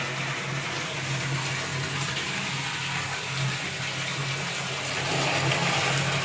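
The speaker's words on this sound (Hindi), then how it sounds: "मैं बड़ा ड्रम भर रही हूँ। ये देखिए कितना फास्ट पानी आ रहा है।" Steady, loud rush of water filling a large drum, a continuous gushing flow with a low hum underneath and no talking.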